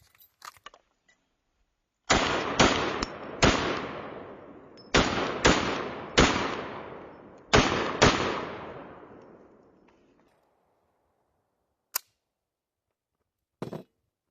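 A MAKO R7 compact striker-fired pistol fired outdoors: about eight loud, sharp shots in quick pairs and triplets, each trailing off in an echoing decay, followed by silence and a couple of faint clicks.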